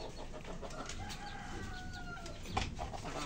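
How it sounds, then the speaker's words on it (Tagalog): A backyard chicken clucks and gives a drawn-out call nearby in the early morning, with faint outdoor background noise and no talking. "Ito yung manok namin, oh."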